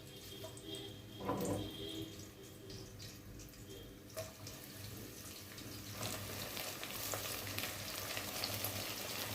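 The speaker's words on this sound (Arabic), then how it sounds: "اول لما يسخن الزيت هنزل بالبصل،" Chopped onions fry in about half a cup of hot oil in a pot for Egyptian koshari, making a soft, steady sizzle close by that grows fuller and brighter partway through.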